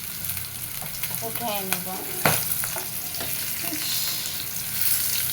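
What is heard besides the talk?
fish frying in oil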